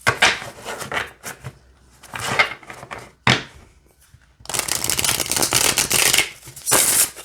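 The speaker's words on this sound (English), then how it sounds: "let's see how it shuffles" A tarot card deck shuffled by hand, with close, crisp riffling and sliding bursts of card noise that come in several separated rounds, ending in a longer continuous shuffle.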